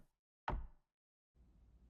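Two quick knocks on a door in a new Kojima game, a single close, sharp thud pair sounding as one short impact in near silence, followed by a low murmuring ambience.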